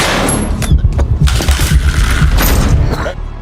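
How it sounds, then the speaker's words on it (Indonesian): Gunshots of rubber bullets fired in the action film Rebel Ridge: a quick string of sharp, punchy bangs and thuds in rapid succession, loud and close, over a dramatic scene's background. "Terry diam-diam menembak Sandy dari belakang dengan peluru karet"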